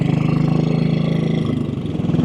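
A 1957 Royal Enfield Bullet 500 single-cylinder motorcycle thumps steadily while being ridden, its loud, close engine note holding a continuous pulsing rhythm with a slight shift in pitch near the end.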